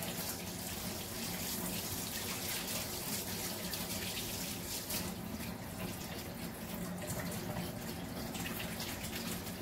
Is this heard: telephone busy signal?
no